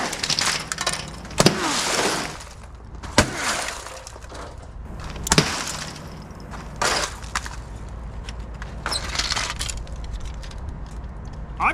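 An 8-pound sledgehammer smashes items in a series of about six loud, close impacts, each a sharp crash with breaking-glass clatter, spaced a second or two apart over a steady background, with no talking.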